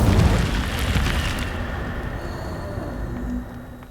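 An Incendio fire spell cast in Hogwarts Legacy, a loud whooshing burst of flame that booms at the start, then tails off into a fading rumble with faint chimes, with no talk.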